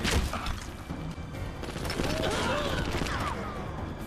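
Rapid gunfire and crashing impacts from a gun in the video game Red Steel, a dense continuous clatter with some whooshing effects layered over it.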